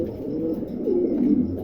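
Pigeons kept for sale coo softly at close range, low rolling throaty calls swelling briefly over a quiet background, with no talking.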